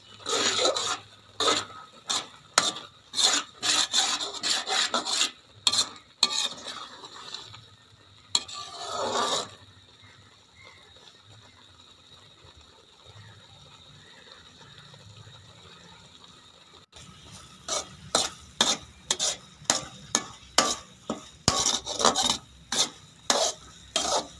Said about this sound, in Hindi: बर्तन में ये नीचे लगेगा, इसलिए आपने इसको हिलाते रहना है बराबर